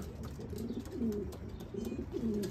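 A racing pigeon coos softly at its home loft on arrival after a 150-mile race, giving several low, rolling coos in close succession against faint background noise.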